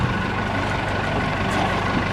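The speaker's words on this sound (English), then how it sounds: "You can hear the digger still revving." A digger engine revs at a worksite alongside a forklift, heard as a continuous broadband engine roar with a low rumble, steady and fairly loud with no talk over it.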